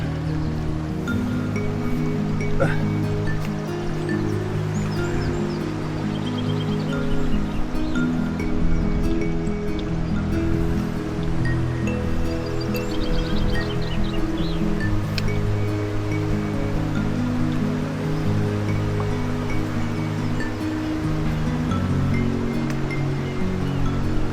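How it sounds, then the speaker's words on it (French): A mountain waterfall in the Mercantour rushes with a steady, broad roar of falling water, continuous and fairly close, with no voices. "Essayer d'accéder à la cascade là."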